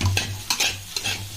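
Masala egg fried rice with chilli being stirred and mixed in a hot pan, with scraping strokes and a steady sizzle underneath, close and fairly loud.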